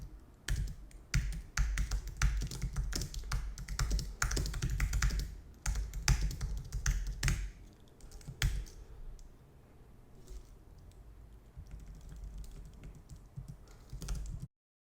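Rapid keyboard typing of a project description for a Node.js package.json file. Dense bursts of close, crisp key clicks come first, then thin out into quieter, scattered taps before stopping.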